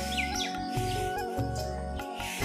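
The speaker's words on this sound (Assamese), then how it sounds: "এই দুটা চৰাই আমাক মাতি থাকে সদায়।" Two sparrows chirping and calling in short repeated notes over a steady low background hum, fairly close, around 5:30 in the morning.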